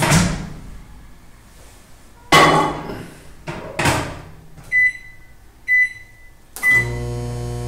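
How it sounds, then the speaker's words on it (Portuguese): A microwave hums steadily while dissolving gelatin, then its door clunks and several short electronic beeps chirp in a row before the oven starts running again. "Para ajudar a dissolver, a gente coloca 15 segundos no micro-ondas."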